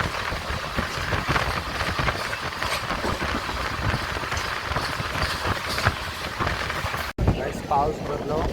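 A Jan Shatabdi passenger train runs on its way from Mumbai to Konkan after leaving Panvel. It gives a steady, loud rumble with rhythmic rail clatter that goes on without a break, then drops out suddenly near the end.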